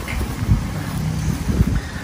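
Wind blusters into a microphone near the sea on open land by the coast, a steady low rumble with soft gusty thumps throughout.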